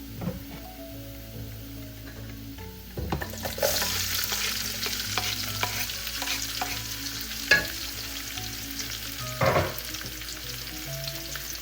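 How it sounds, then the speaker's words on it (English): Garlic and onions fry in a pan for kare-kare, a soft steady sizzle broken by clinks and scrapes of stirring, with a louder burst as the onions go in, close and without speech. "once our garlic starts to brown up here, we're gonna add our onions"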